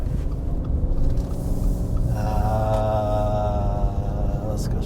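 A 2023 Subaru Forester Wilderness pulls away after being shifted into gear, a steady low engine and road rumble rising slightly as it moves off, with a faint whine entering midway; continuous and fairly close, with no talk.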